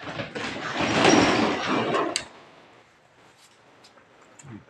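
A sliding door in a home, built light so a wheelchair can pass, rolls loudly along its track for about two seconds and ends with a sharp knock, followed by quieter faint rattles.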